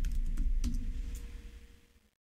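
A password is typed on a computer keyboard as a short burst of close key clicks over a low hum, then fades to silence.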